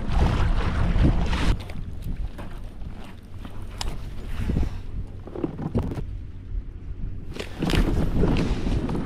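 Strong wind gusts of up to 29 mph buffeting a bass fishing boat on the California Delta, loud rushing bursts rising and falling with brief thumps, and no speech.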